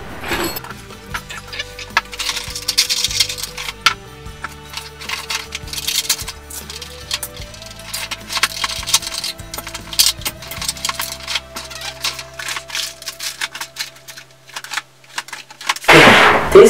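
A bunch of metal keys jangles and clinks close by as they are sorted by hand, with a busy run of irregular rattles and sharp metallic taps.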